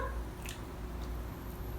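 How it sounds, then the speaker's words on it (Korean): A pet chewing a dried sweet potato snack: a few soft, moist crunching bites spaced about half a second apart, close and quiet against a low background hum. "그 와중에 고구마 말랭이 너무 잘 먹어요."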